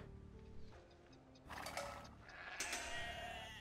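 Sheep bleat in the video game Age of Empires II, two distinct calls about a second apart, fairly clear over quiet game ambience.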